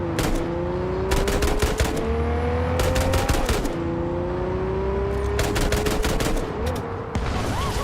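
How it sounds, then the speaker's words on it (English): Machine gun fire in Cyberpunk 2077 Phantom Liberty, rapid loud bursts in several clusters over a rising and falling engine drone. "Still got the machine guns."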